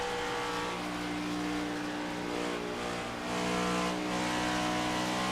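Race cars circling Dover in a Sunoco Cup Series racing game drone with steady, high-revving engines, a layered engine whine holding pitch with slight swells as cars pass, continuous and fairly loud.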